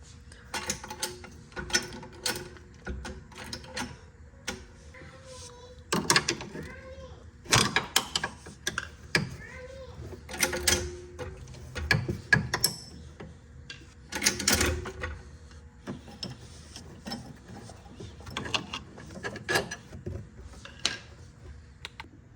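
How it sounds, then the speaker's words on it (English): A car jack ratchets in irregular clicking bursts while lifting the suspension assembly of an Audi A6 Quattro, mixed with scattered metallic clanks and handling noises throughout. "I'm going to use my jack to lift the whole assembly up so I can find the sweet spot and slide this bolt out"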